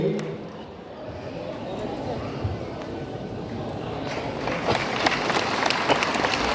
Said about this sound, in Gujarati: તાળીઓના ગડગડાટથી આપણે વધાવીએ.